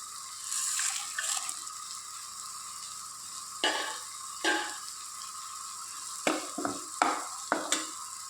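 Cashews and chana dal frying in a pan, a continuous bright sizzle punctuated by several sharp utensil scrapes and knocks, heard close with no talking.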